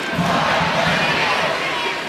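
Large crowd in a sold-out lower bowl at a women's college volleyball match between UCLA and Washington in Seattle, a steady loud roar of cheering and voices throughout.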